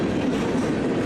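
A grain freight train running from a rail yard in Columbus, Ohio rolls past close by, a loud, steady rumble of railcars on the rails with no pauses.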